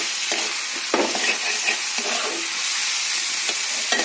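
Chopped tomato sizzles in a pan with a poppy seed paste ground with green chillies, giving a steady loud frying hiss broken by scraping stirs and occasional spatula knocks.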